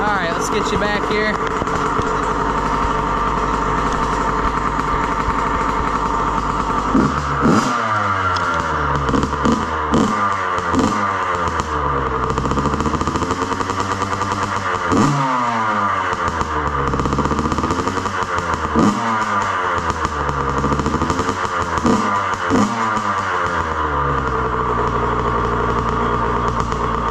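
A Yamaha YZ85 dirt bike fitted with an FMF Shorty exhaust idles steadily, then is revved again and again in sharp rising and falling bursts, loud and close, with no talking.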